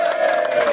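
A capacity crowd in a packed arena roars and cheers in one loud, sustained wash of voices, brief and unbroken.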